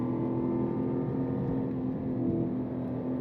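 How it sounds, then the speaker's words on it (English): A Cadillac CT5-V Blackwing sedan with its American V8 drives along a scenic country road, the engine giving a steady low drone and road rumble from inside the car, without revving up. "blasting through with American V8"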